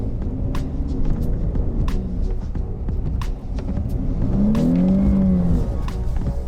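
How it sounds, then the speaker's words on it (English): A Dodge Charger SXT AWD with traction control off spins its tires in snow: a loud, steady engine drone with rising revs and a whining tone swelling near the end, plus sharp clicks and crunches throughout. "Let's see if it will let me break the tires loose."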